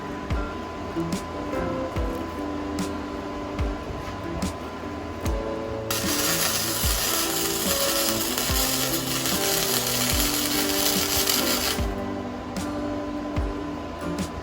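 Welding rosette welds on a metal flop stop, a steady crackling buzz mixed with mechanical rattling and clicks, swelling into a loud hissing stretch in the middle before easing back, close by.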